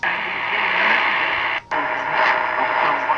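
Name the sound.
shortwave radio stations with static noise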